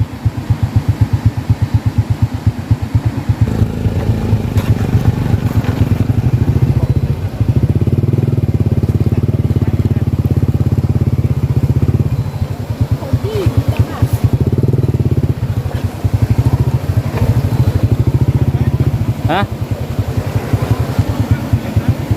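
A motorcycle rides along a rural road in the Salavan area of Laos, its engine a loud, close, throbbing putter that rises and falls with throttle changes, while riders talk over it.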